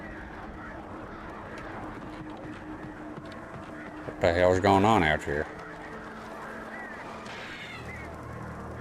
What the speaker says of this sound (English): Ah, it's the birds. They can hurt you here